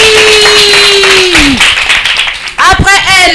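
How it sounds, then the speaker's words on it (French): Clapping for a child at a girls' kindergarten event in the diocese of Katiola, loud and close, rising under a held musical tone and continuing as a voice speaks over it. "On l'applaudit."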